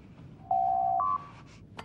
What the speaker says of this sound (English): The door chime may sound familiar.